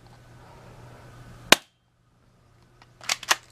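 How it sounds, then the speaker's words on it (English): A quick spring-powered airsoft gun fires one sharp, close snap, then a short quiet gap, then a quick cluster of two or three more cracks in a quiet setting. "Pretty quick little spring airsoft gun. Let's take a few more shots."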